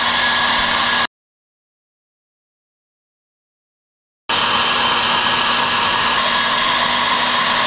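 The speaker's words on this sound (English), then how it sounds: "Hairdryer option." A hair dryer, used in cooking with sugar, blows with a loud, steady roar, cuts out abruptly for a few seconds of silence, then starts again at full strength.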